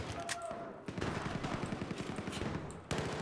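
Rapid bursts of automatic gunfire in Battlefield 1, a quick rattling run of shots with a few sharper cracks. The shots are fairly faint and sit under a player's voice.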